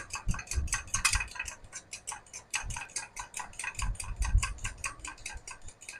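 A fork briskly beating egg whites and yolks together in a bowl for rasmalai, a fast, even train of light clinking strokes that continues steadily throughout, fairly faint, with no talking.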